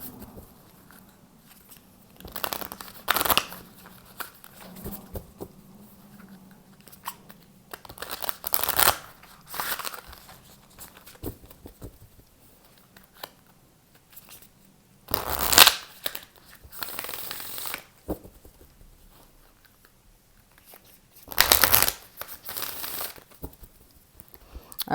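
A Starseed Oracle card deck is shuffled by hand during a tarot-style reading, in repeated papery riffling bursts separated by quieter stretches.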